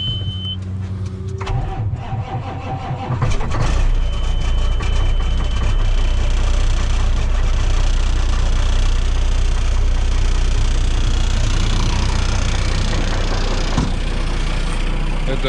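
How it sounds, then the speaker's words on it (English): A truck engine cranks and catches after a few seconds of quieter rattling, then settles into a loud, steady, rumbling idle that runs without a break to the end. "get the truck fired up and ready to go for the day"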